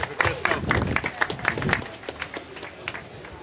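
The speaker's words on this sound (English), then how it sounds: "Big round of applause for our panelists here." An audience at a launch event applauds its panelists with brisk, lively clapping that thins out and tapers toward the end, heard alone without talk.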